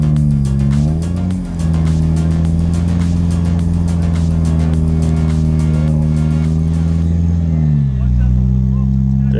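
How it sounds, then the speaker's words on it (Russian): A Lada Niva's engine revs hard while the car crawls deeper through a swamp during an off-road competition. The loud, strained drone holds steady with two brief dips in pitch, and a voice is faintly heard beneath it. "Машина все глубже и глубже ходит."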